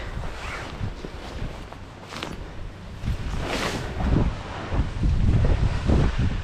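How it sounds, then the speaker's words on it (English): Strong wind buffets the microphone in gusts, rumbling and roaring louder toward the end, with no voices. "It's very windy today."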